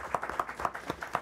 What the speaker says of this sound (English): Let's give another round of applause also for the principals that came to support their employees